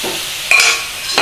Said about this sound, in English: Just give that a stir around.